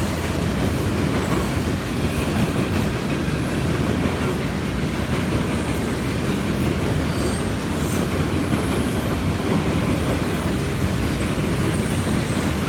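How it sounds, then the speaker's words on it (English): An Amtrak passenger train rolls past on the track at Roanoke, a loud, close, continuous rumble of wheels with faint squeals, sustained throughout. "here comes the end of the train"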